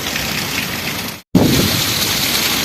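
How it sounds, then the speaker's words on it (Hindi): Heavy stormy rain with wind pours down at night, a loud, dense and steady hiss of water that cuts out for a split second and then resumes. "फिर से आज जो है तूफ़ानी बारिश, हवा भी साथ में है और बारिश भी है।"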